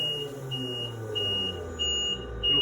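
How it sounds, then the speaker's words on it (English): Lumenair therapy device sounding its end-of-treatment alarm: a repeating high electronic beep, five short even tones about every half second or so, clear and steady over a low background hum. "At the end of the hour of therapy, an alarm will sound."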